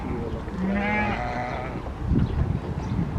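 Kıvırcık sheep bleat at an outdoor livestock tent area during a Kurban sale, one long wavering bleat up close followed by rustling and faint voices nearby.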